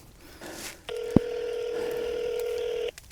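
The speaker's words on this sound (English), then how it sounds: "I gotta call Cody." A mobile phone being dialed to place a call after a deer hunt in Mississippi, with a short soft key tone followed by a single loud, steady dialing tone lasting about two seconds, heard close and alone.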